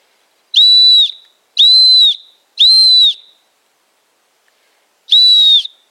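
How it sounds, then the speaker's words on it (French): A Leatherman Signal survival whistle blown outdoors in a three-blast SOS pattern: three loud, shrill, steady blasts in quick succession, a pause, then a fourth blast starting the next set. "Par exemple sur 3 coups, ensuite on s'arrête, 3 coups, ensuite on s'arrête, ce qui est au niveau du sifflet le signal SOS."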